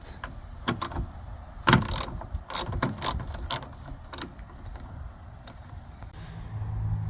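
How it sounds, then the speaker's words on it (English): A socket ratchet backs out a 10mm bolt holding a Nissan Rogue tail light, with the lift gate open, making a few close clicking and creaking bursts followed by quieter mechanical fiddling. "remove this 10mm bolt using a 10mm socket and a ratchet"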